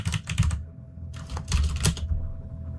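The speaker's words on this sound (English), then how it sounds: "You're typing on your fancy 3D printed split keyboard." Fingers type on a 3D printed split keyboard, making two brisk flurries of clacking keystrokes with a short pause between them, close and clear.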